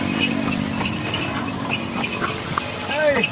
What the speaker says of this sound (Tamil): நல்ல குதிரை வண்டி பயணம்